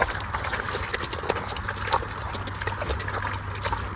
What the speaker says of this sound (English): my favorite sound in the world is pigs eating